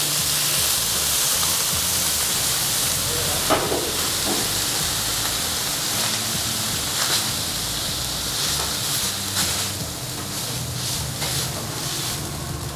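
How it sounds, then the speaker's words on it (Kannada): Pesarattu dosa batter sizzling on a hot griddle gives a loud, steady hiss of steam and frying that runs throughout, with a few scraping or clattering bursts and no talking. "ಪೆಸರೆಟ್ ದೋಸೆನ ಹಾಕ್ತಾ ಇದ್ದಾರೆ ಸರ್ ಇವಾಗ?"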